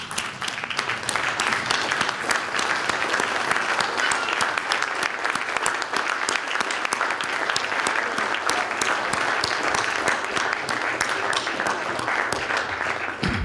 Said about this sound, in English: give yourselves a standing ovation and round of applause